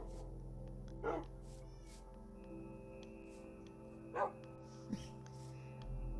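Dogs in a video game give a few soft, brief barks spaced several seconds apart, faint and distant over a steady low game backdrop with no speech.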